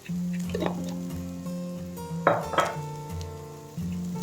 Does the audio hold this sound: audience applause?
no